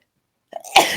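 A single sharp sneeze bursts out near the end of a quiet moment, preceded by a brief intake of breath, close and fairly loud.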